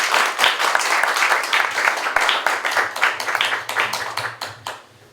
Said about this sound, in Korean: 늘 박수로 환영해 주시기 바랍니다.